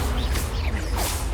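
A spell cast in the game Hogwarts Legacy, likely Expelliarmus, gives a short loud magical whoosh that swells twice, around a quarter and one second in, over a steady low rumble of game ambience.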